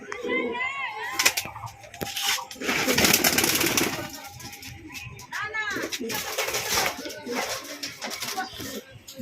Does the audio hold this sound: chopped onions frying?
no